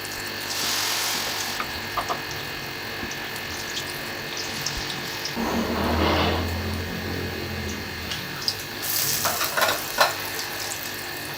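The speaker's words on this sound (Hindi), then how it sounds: "अब इन्हें मैं तल लूँगी।" Shami kebabs fry in hot oil with a steady soft sizzle, a louder burst of bubbling and spattering partway through, and a few small clinks and stirs in a kitchen.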